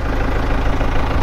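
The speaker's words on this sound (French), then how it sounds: "c'est impossible de parler quand le tracteur est accéléré comme ça" Tractor engine heard from inside the cab during cover-crop mulching, a loud, steady, low droning roar that fills the whole brief moment with no talking.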